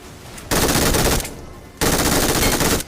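Loud automatic gunfire from a BGMI battle-royale mobile game fight, in two long sustained bursts separated by a brief pause, close and dominant with no speech.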